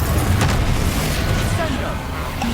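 A Confringo blasting spell erupts in Hogwarts Legacy as a loud, continuous explosive roar with booming low-end bursts filling the whole stretch, while a voice calls out alongside.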